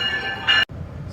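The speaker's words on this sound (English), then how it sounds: "So I just got on the train to our next destination." Inside a GO Transit commuter train, a steady rumbling cabin drone with a high tonal whine that swells briefly and then cuts out, followed by continued low rolling noise.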